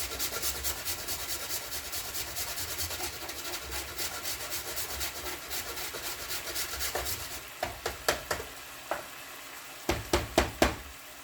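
Meat for egg rolls cooking in a pan gives a steady, close sizzle with rhythmic scraping, then a few sharp clicks and taps near the end.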